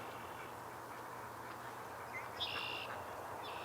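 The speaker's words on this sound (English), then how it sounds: "They're wild birds." Wild ducks let out a short quacking burst partway through, faint and somewhat distant over a steady low outdoor hum, then fall quiet again.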